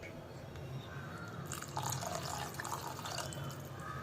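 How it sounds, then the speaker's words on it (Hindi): Hot water is poured into a paneer curry gravy, giving a soft, close splashing and trickling that picks up partway through over a quiet kitchen background. "पानी दोस्तों इसमें गरम करके डालें तो सब्जी का कलर और टेस्ट बना रहता है।"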